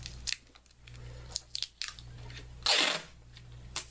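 Sticky tape is pulled from a roll in short crackling rips, ending in one louder, longer tearing pull and a cut, close up and fairly quiet with brief gaps between bursts.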